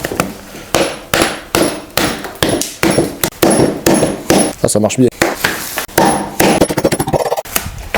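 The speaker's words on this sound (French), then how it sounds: "Je vais tenter avec le dos d'un marteau pour voir si ça marche." Back of a hammer knocking bark off a piece of wood, a rapid series of sharp, loud, close impacts in irregular rhythm, with a brief spoken remark among the blows.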